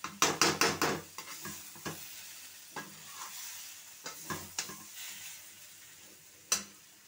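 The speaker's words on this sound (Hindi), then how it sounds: "2 प्याज पेस्ट करके, अदरक लहसुन हरी मिर्च डाल करके इसे मैं डीप फ्राई कर रही हूँ" Ginger, garlic, green chilli and onion paste deep frying in a pan, with a run of sharp stirring scrapes and clatters at first, then scattered spoon knocks over a low steady sizzle.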